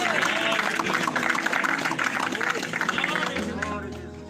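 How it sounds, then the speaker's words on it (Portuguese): Church congregation giving a joyful round of applause for Jesus during an evening service, dense clapping with crowd murmur that gradually thins out toward the end. "dar uma salva de palmas bem alegre para o Senhor Jesus"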